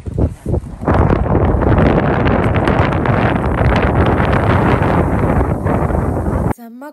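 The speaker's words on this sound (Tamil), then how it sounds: "செம்ம காற்று, நிற்கவே முடியல." A strong, gusting wind roars without a break across a frozen lake and buffets the microphone hard. Under the loud rush there are a few brief knocks at the start. The noise cuts off abruptly near the end.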